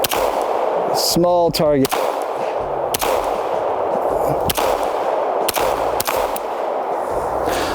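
Sharp, loud pistol shots from an Oracle Arms 2311 firing SAR USA 124 grain ammunition at an outdoor range, several cracks spaced irregularly with a brief spoken remark between them and steady background hiss.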